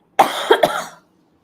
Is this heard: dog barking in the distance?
no